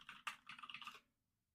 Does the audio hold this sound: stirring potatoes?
no